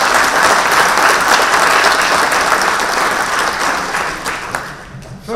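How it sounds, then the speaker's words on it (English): An audience at a formal event applauds, dense sustained clapping close by and loud, tapering slightly toward the end. "I want you all please to give Mr. Mohan Suresh a very big rose of applause"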